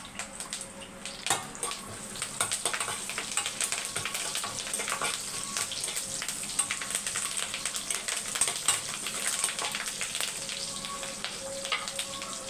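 Fennel seeds, curry leaves, green chili, bay leaf and stone flower tempering in hot oil: a dense, steady crackling sizzle with frequent small pops, close and continuous.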